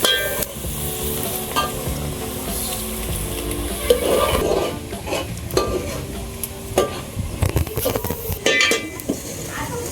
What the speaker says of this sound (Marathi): कांद्याला येऊ देऊ आपण ब्राऊन